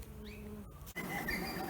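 Honeybees buzzing around an open hive frame, a low steady hum with a passing higher whine of a single bee, close and moderately loud, with a brief handling noise midway.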